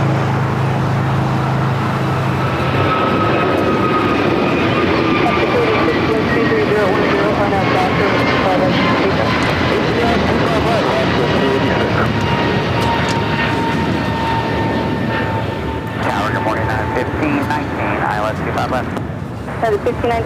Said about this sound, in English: It's United Airlines, flight 1235, coming from Orlando, 737-900 ER.